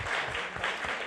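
A church congregation claps for God during a worship service, a brief burst of dense, steady applause from a crowd in a hall, close and full.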